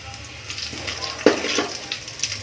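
Tempering spices for radish sambar crackle and sizzle quietly in hot oil, with soft intermittent pops and a faint stirring scrape.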